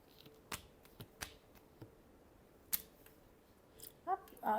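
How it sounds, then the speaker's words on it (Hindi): Sharp, dry flicks and light slaps of tarot cards being shuffled, spaced out and close by, ending in a quick burst of riffling, with no voices. "last shuffle, three of wands"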